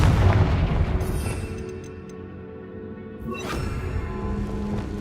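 Confringo blasting curse explosions in Hogwarts Legacy, a heavy boom with rumbling decay, then a second sharp blast with a crackling tail, loud and close, with no talk.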